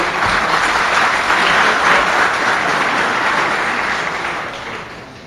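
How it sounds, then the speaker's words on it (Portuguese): Applause from an audience at a Brazilian ceremony on hydrography and inland navigation, greeting an introduced port terminal association director; dense, steady clapping throughout that fades slightly toward the end. "Uma salva de palmas, por gentileza."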